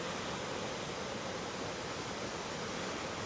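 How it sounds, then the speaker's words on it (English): Central American waterfall roaring in a steady, dense broadband rush, close and constant with no voices over it. "This is the best waterfalls we've seen so far in this trip"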